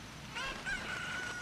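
A chicken from the video game Zelda: Ocarina of Time gives a short run of clucks and a crowing cry, bright and fairly close over a steady background hiss, with no talking.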